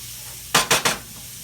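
Three quick scraping stirs of onions with cinnamon in a pan for apple and pear chutney, close and crisp over a quiet background sizzle.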